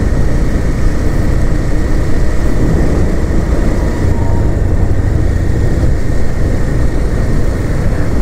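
A motorcycle ridden along a road at moderate speed gives a loud, steady engine drone mixed with heavy wind rumble, unbroken throughout with no voices.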